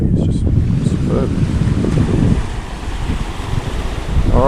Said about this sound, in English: I'm just checking the wind. Wind's not too challenging for a drone.